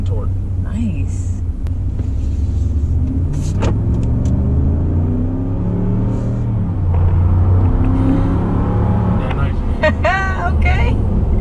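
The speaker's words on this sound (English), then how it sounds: "What's that exhaust sound like?" A 2019 Ram Rebel pickup truck's exhaust rumbles low and steady inside the cab, rising briefly as the engine revs, while people talk over it.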